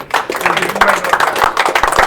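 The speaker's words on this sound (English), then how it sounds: "a round of applause" A round of applause for a team's dedication, sharp irregular hand claps from a small group, fairly close and loud, with talk mixed in.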